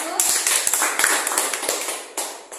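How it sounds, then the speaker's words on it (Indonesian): Applause for a student group in a classroom after their presentation, heard as a burst of uneven, close clapping from several people, loud and lively, with voices mixed in. "Oke, kita beri aplaus untuk kelompok 1"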